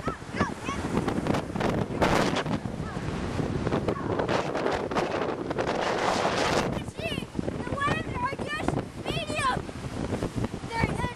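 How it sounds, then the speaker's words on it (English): Strong wind from a March 2009 windstorm at Newport Beach buffets the microphone in a constant roar, with surf and faint bird calls in the background and a voice speaking. "Yeah, it's very windy here."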